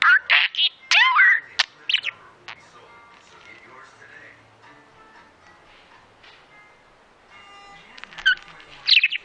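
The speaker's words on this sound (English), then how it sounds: "A parakeet? What is it? A green yellow bird that talks." A green-yellow pet parakeet chirps and squawks in sharp bursts at the start and again near the end, close by, with a quieter stretch of faint chatter between them.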